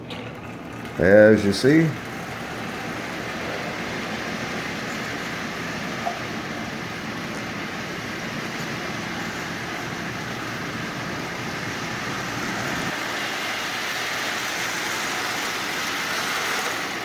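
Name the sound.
Marx 999 toy train locomotive motor running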